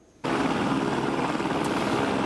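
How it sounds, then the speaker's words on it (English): A police helicopter's engine and rotor roar in abruptly as it takes off, holding steady, loud and close, with no talking. "Obviously, the police helicopter is just taking off behind me."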